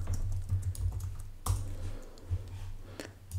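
Typing on a computer keyboard while working in Shaper Studio, with steady close key clicks and a few louder taps, no talking.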